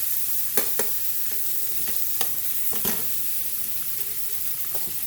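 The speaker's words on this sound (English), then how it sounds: "we're going to stir in those shrimp" A close, steady sizzle of shrimp and ramen noodles frying, with several sharp scraping clicks of a utensil stirring the pan.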